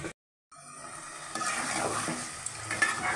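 Catla fish head and lentils being stir-fried in a pan for muri ghonto, a brief gap and then a steady moderate sizzle with faint scraping of a spoon.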